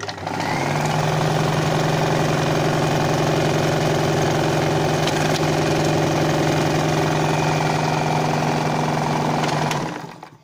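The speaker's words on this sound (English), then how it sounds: "we start the machine per micro switch and it will run." A Necchi Supernova Julia 534 sewing machine runs steadily while stitching a buttonhole. It gives a loud, even motor hum with rapid needle chatter for about nine seconds, then stops on its own.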